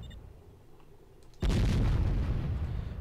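Walls being blown apart in the strategy video game Warzone 2100: quiet low background, then a single sudden heavy boom that lingers as a loud, rumbling crumble to the end.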